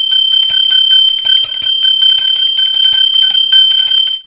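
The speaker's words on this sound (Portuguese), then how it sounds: "E acione o sininho, porque sininho tocou" A notification bell sound effect rings out loud and bright, a rapid, continuous jingle of metallic strikes lasting about four seconds with no pauses.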